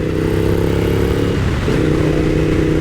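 A Suzuki SV1000S V-twin motorcycle engine runs loud and close under a rider, a deep throbbing drone with a brief dip and pitch shift midway before pulling on steadily.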